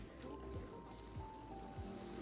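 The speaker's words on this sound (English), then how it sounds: "this sound is very loud, like the waves that it makes" Ocean waves in The Sims video game make a faint, steady wash of surf with a few soft low thumps. The sound is quiet and constant throughout, with no clear speech.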